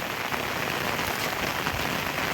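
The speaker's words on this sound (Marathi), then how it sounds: "मुसळधार पाऊस पडतो आहे" Heavy rain pours steadily over an outdoor weekly market in Rajapur, a dense, continuous roar of water drumming on surfaces close by, with no breaks and no voices.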